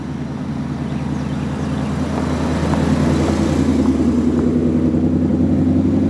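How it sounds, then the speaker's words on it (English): The V8 engine of a 2016 Ford Mustang GT with a 5-liter engine and manual transmission drones steadily from inside the car on a test drive. The rumble is low and even and swells slightly partway through. "Let's go test drive his 2016 Mustang GT."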